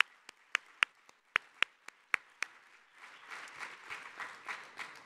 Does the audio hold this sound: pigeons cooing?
no